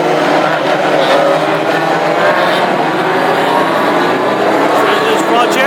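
Classic hot rod race cars on installation laps, a loud continuous roar of engines with a commentator talking over it throughout.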